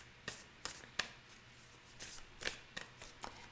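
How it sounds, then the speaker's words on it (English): A very large tarot deck is shuffled in split halves, giving a string of crisp card riffles and taps, close and fairly quiet, with no talking. "This deck is so big, though, I have to split it in half to shuffle."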